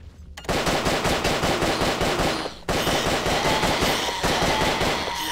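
Rapid automatic gunfire rattles from a shooter video game, two loud sustained bursts of evenly spaced shots split by a brief pause, with no speech.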